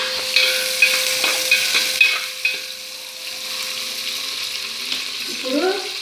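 Onions frying in oil for chicken biryani, a moderate close sizzle with intermittent spoon scrapes and knocks against the pan, settling into a quieter hiss toward the end.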